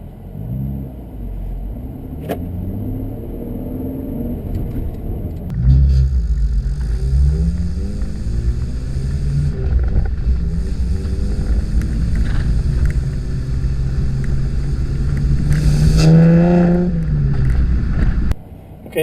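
A 2015 Camaro 1LT with manual transmission and dual mode NPP performance exhaust idles with a deep burble, then roars through repeated throttle blips past 3,000 RPM, loud and close from behind.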